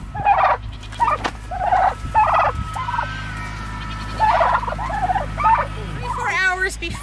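Farm turkeys gobble in repeated loud bursts close by, several birds calling over a steady low hum, with brief pauses between calls.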